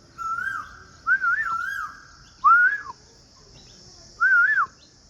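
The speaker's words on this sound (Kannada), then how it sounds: "ಯಾವುದೋ ಇಲ್ಲಿ ಕೋಗಿಲೆ ಕೂಗ್ತಾ ಇದೆ" An Asian koel calls outdoors in Karnataka, three or four separate rising whistled phrases spaced a second or two apart, clear and fairly close over a faint steady insect hum.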